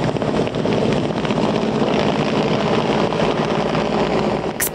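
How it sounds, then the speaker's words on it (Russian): A Mi-8 rescue helicopter hovers over the sea, its rotor and engine making a loud, steady, close drone that continues unbroken throughout, with no voices. "Спасательные операции привлекают еще 2 вертолета"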